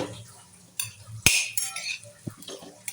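Ghee-coated dates being stirred and roasted in a metal pan for dry fruit laddu, with a spoon scraping and clinking against the pan in several sharp knocks over a low background hum, no talk.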